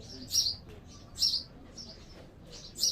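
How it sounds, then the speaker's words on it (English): Small birds chirp inside a wooden shelter in Great Britain in short, high, bright bursts, about four calls spaced roughly a second apart, fairly close and clear over quiet background. "you could hear the birdies chirping inside"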